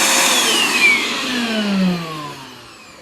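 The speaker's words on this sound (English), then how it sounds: "Like I said, I'd show you how to use that vacuum cleaner." Hyper Tough vacuum cleaner, used to clean an air conditioner, running with a steady broadband whir and a falling motor tone as it winds down; close and fairly loud, with no talking.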